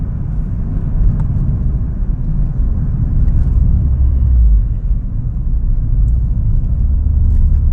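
A car drives along a winding country road, its engine and tyre rumble loud, low and steady throughout, swelling slightly midway with no talking.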